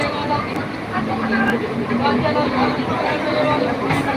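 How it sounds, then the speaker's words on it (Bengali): A Gede local train running on the rail line, heard from inside the carriage as a steady loud rumble and rattle throughout, with passenger chatter mixed in. "লোকাল ট্রেন হ্যাঁ লোকাল ট্রেন"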